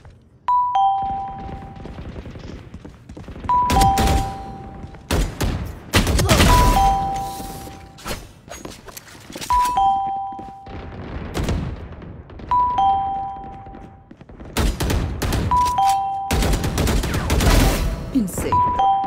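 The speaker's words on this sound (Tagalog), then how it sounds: "Grabe yung doorbell." Doorbell chimes ring repeatedly, two-tone ding-dong pairs recurring every few seconds, mixed with loud bursts of game gunfire and a talking voice during a live gaming stream.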